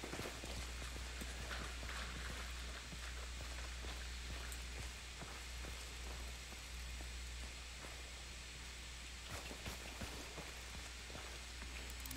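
Horse hooves clip-clop in a steady walking rhythm in the video game Hunt: Showdown, moderately close over a rain-like ambient wash, with no talking.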